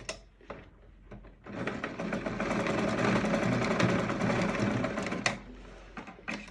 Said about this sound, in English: We're going to use sewing machine to hold this part down